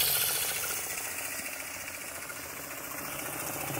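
The small motor of a teaching-model hydroelectric plant runs with a steady, buzzing mechanical hum and faint rapid rattle. It is close and constant, easing slightly after the start, with no talking.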